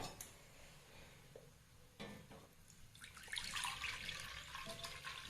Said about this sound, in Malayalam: ഒന്നര ഗ്ലാസ് വെള്ളം ഒഴിച്ചിട്ടുണ്ട്